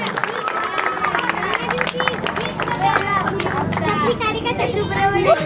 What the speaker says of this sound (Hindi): एक बार जोरदार ताली बजा दो